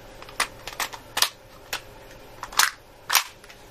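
WE AK74 gas blowback airsoft rifle fires a series of sharp, snappy reports in irregular single shots and short pairs, close and fairly quiet, with no talking.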